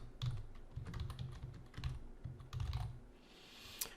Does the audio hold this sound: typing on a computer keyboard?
yes